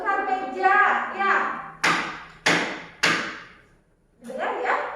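Classroom talk gives way to three firm knocks of an eraser on a table in quick succession, close and clear, before voices resume.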